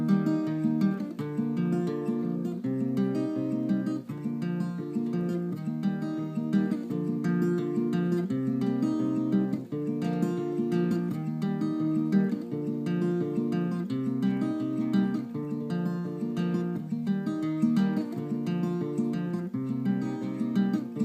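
Acoustic guitar strums the verse chord pattern of a song in steady alternating fingerpicked rhythm, close and even for the whole stretch, no singing or talk.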